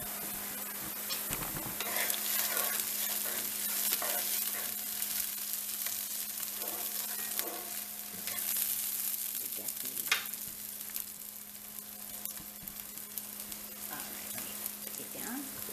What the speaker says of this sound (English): I'm going to stir my peppers